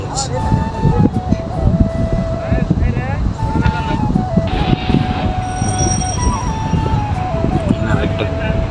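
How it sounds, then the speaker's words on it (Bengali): A train rolls into Rajendrapur station heading toward Dhaka, with a loud, steady rumble of wheels and carriages and a sustained whistle-like tone, while people talk nearby. "আরেকটা ট্রেন আসতেছে সামনে, ঢাকার দিকে ট্রেনটা আসতেছে"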